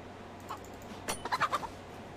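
Chicken clucking in the snowy winter Chernarus map of the game DayZ: a few short, soft clucks in a quick cluster near the end, faint over quiet ambient background.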